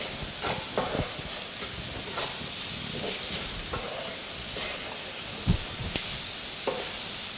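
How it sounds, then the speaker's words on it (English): Chili powder and masala frying in a pot for a madumbe and chutney dish, a steady close sizzle and hiss with scattered stirring scrapes and soft knocks throughout. "So that has to fry a bit, Gogo. Yeah, just like that. Fry a bit."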